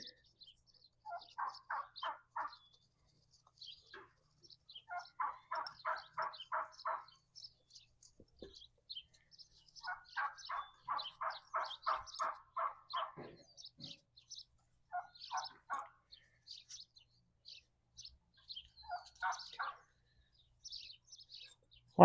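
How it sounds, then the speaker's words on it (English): Morning birds chirp outdoors in short repeated bursts of rapid trilling calls, scattered across the stretch with quiet gaps between, moderately distant and without talk. "A lot of bird noises this morning."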